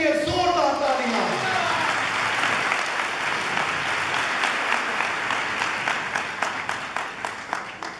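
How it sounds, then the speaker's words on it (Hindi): A church congregation breaks into loud, sustained applause that gradually thins into separate claps toward the end, following a preacher's call to clap. "यीशु के लिए जोरदार तालियां।"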